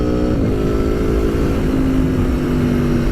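An Aprilia V4 Tuono Factory motorcycle engine accelerates hard and loud, its steady roar climbing in pitch through the revs with no pause, alone and close to the rider.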